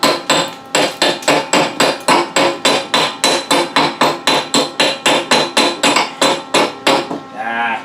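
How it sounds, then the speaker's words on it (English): A chisel chips welding slag off a weld, striking in a fast, steady run of about two dozen loud, sharp metallic taps, close up and with no talking. "I use a chisel to pick here"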